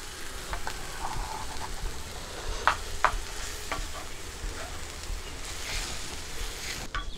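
Ground masala for a Goan cashew fruit xacuti cooks in a pan with a soft, continuous sizzle, broken by a few sharp scrapes and clinks from stirring, close by.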